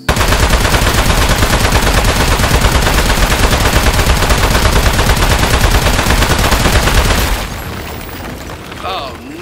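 Loud, relentless automatic gunfire pours into a metal boss in the video game Aperture Desk Job, dense and unbroken for about seven seconds before cutting off to quieter game sounds.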